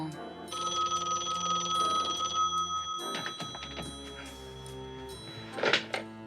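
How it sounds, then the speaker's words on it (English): A telephone rings in a scene of a police crime drama, bright repeated bell trills over a low hum, then a thunk and clatter as the ringing cuts off, followed by a short burst of noise. "Bill, answer the phone."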